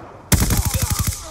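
Automatic gunfire in Black Ops 2 on the Raid map: a loud, close burst of about eight rapid shots in an even rhythm, with no talk over it.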